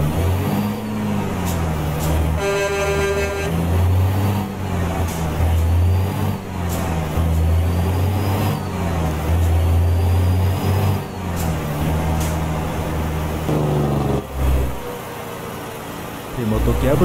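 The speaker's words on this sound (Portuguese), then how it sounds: "Esse motor aqui é bruto, hein?" A Mercedes Actros 2546 truck engine in Euro Truck Simulator 2 drones steadily and loudly throughout, its low rumble rising and falling with the throttle, while someone talks over it and a brief tonal horn-like sound cuts in early.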